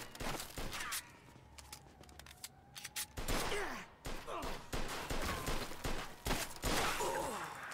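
Gunfire in the Mafia II video game: a string of sharp, loud shots, a few scattered early on, then a dense irregular volley of repeated cracks close by.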